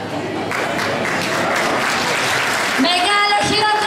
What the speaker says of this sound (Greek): Μεγάλο χειροκρότημα για τους 2 δημάρχους